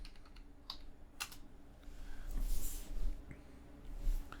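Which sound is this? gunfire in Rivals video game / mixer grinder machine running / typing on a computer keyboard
typing on a computer keyboard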